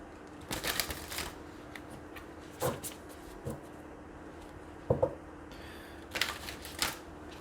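Nature's Whispers Oracle cards are shuffled in several short, soft riffling bursts spaced across a quiet room.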